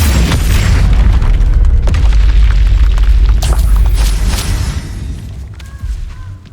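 A fire spell blast from Hogwarts Legacy erupts as a loud, booming burst with roaring fiery rumble that fills the scene, then slowly fades with faint crackling tails.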